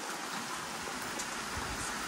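Steady rain falls at a street vendor's stall in Ciroyom, a continuous even hiss filling the short stretch with no voices.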